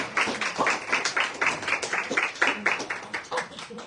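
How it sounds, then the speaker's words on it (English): An audience at a live positive-thinking event in New York gives a round of applause, a dense irregular patter of many hands clapping that rises and falls in bursts for a few seconds, with some voices mixed in. "So give yourselves a round of applause."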